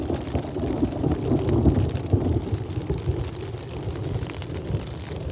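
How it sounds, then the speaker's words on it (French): A low rumble of thunder is heard from inside a tent during rain, with a muffled, rolling sound that rises and fades under steady wind and rain noise. "Je sais pas si vous entendez mais là ça tonne"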